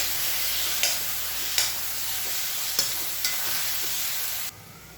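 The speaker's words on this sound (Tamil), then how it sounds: "மாங்காய் வந்து நல்லா சாஃப்டாக வர அளவுக்கு எண்ணெயில் ஃபஸ்ட்டு வதக்கிக்கலாம்." Grated raw mango sautéing in oil in a pan gives a steady close sizzle, broken by a few sharp scrapes as it is stirred, before the sound cuts off near the end.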